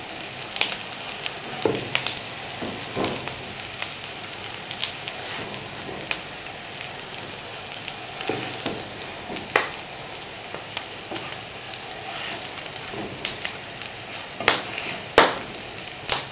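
Beef kababs frying in a pan of hot oil, giving a continuous close sizzle with occasional sharper pops and crackles throughout, no talking.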